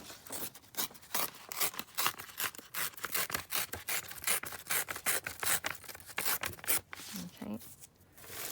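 Paper torn slowly along its edge during a craft project on a 12 x 12 paper pad, a long run of quick rasping rips close to the microphone, with brief pauses near the end.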